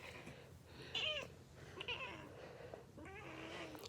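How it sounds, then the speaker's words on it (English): A grumpy house cat lets out three drawn-out, complaining meows in a quiet indoor room, close and clear with short pauses between each call. "The grumpiest kitty in the world."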